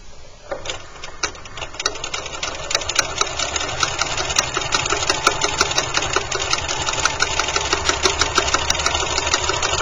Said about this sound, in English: I'm going to follow this seam all the way down, keeping the strap as straight as I possibly can.